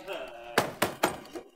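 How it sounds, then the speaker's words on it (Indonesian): Three sharp knocks on a door in quick succession, loud and close, followed by a softer fourth tap, with faint room noise before. "gak usah keras-keras pukul pintunya"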